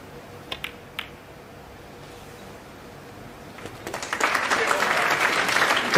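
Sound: audience applause at a snooker match

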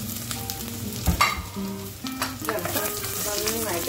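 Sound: sliced onion and curry leaves frying in oil

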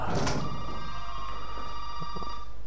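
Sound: telephone ringing, from a video game

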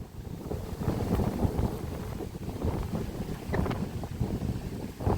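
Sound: dry wind blowing

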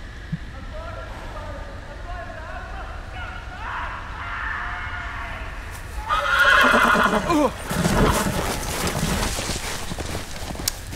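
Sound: horse neighing and hooves in Game of Thrones video game

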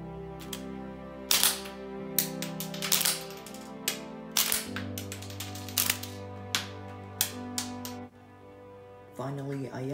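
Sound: LEGO blowback shell-ejecting Desert Eagle toy gun mechanism firing

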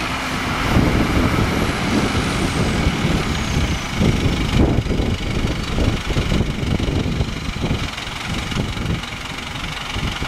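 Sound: tractor 1025 running with a hay baler

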